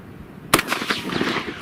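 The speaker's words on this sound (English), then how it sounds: "Another nice shot by Zach, nearly hitting the center of this little computer hard drive" A single sharp gunshot cracks out close by, aimed at a small computer hard drive used as an outdoor target. Brief clattering and a ringing tail follow the impact.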